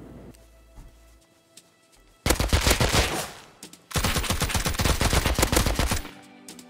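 An auto turret in the video game Rust fires two long, rapid automatic bursts, each lasting well over a second, loud and close, with a short pause between them.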